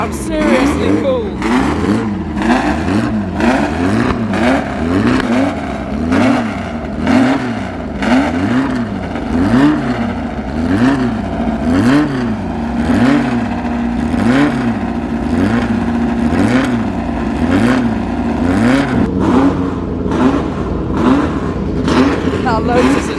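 A loud Lotus Cortina race car, stripped out for racing, sits close by at a classic motorsport meeting, its engine revved over and over in a steady rising-and-falling rhythm before settling toward idle near the end.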